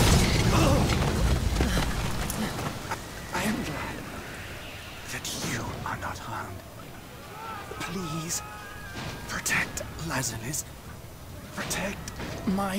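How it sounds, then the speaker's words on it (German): Explosions and crashing impacts from the video game The Last Story, several booms and bursts scattered among game effects and music, with people talking over much of it. "Oh, Explosion."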